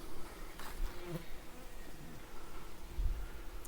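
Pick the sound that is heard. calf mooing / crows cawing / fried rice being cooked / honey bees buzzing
honey bees buzzing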